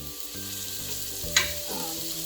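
Onions sautéing in a pan for pork sinigang, a steady close sizzle broken by a short sharp clack of a utensil against the pan, with no talking.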